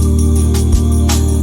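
Brief, loud Christmassy drum loop with sleigh bells and tape distortion, mixing a thick warm low hum with bright jingling bursts and a few hits over about a second and a half, with no voices.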